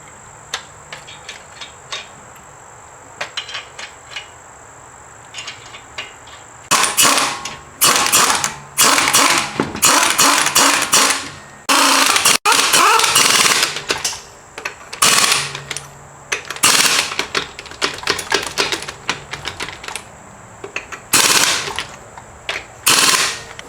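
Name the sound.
torque wrench tightening Chevrolet Equinox control arm bolts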